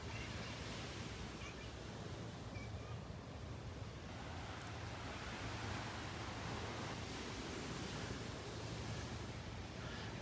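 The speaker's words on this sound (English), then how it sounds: "Live on the beach in North Naples, Florida." Steady broadband surf rolls in along a Gulf beach at Delnor-Wiggins in North Naples, Florida, a continuous wash of waves with light wind rumble on the microphone and no talking.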